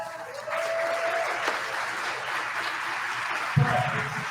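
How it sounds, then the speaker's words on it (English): Steady applause from a room full of people at a cube draft card game tournament, a dense patter of clapping that holds evenly throughout, with a brief louder burst near the end. "Round of applause for that"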